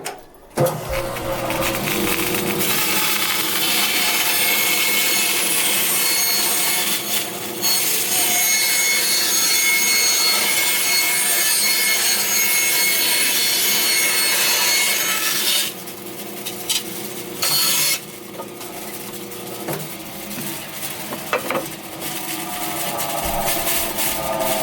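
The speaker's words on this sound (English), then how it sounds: "Now I'm going to turn the saw on, and what I'm going to do is push this jig forward, and then I'm going to rotate it" A bandsaw cuts a circular wooden bowl blank on a circle-cutting jig, giving a long, loud, steady rasping whine close up that starts abruptly, shifts partway through and carries on without talk.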